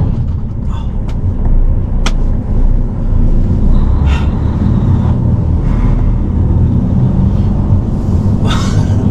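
A truck pulls away toward Mannheim, a steady loud engine rumble and road noise filling the cab, with a few faint clicks and knocks over the drone.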